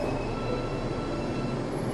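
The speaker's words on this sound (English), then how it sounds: "the train is stopping, and I'm about to get on" Steady, loud rumble of a train running on rails as it pulls into a station, with a continuous low roar and faint metallic squeal throughout.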